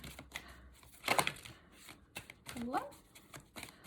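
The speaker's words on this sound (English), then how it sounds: "I'm going to put them back in, and we're going to shuffle again." A deck of cards riffled and shuffled close by, with quick papery flutters and snaps alongside a person talking.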